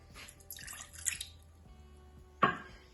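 Water poured for a pickled onion brine, two short splashy pours with dripping and a louder burst near the end, close and clear in a quiet kitchen.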